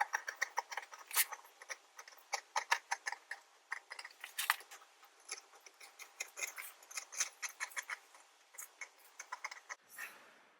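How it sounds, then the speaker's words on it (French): Scissors snip through jersey fabric along a swimsuit-based sewing pattern, giving quick, close, crisp cuts in irregular bursts with short pauses and no talking. "Je vais le couper d'abord"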